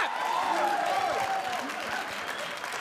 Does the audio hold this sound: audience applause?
yes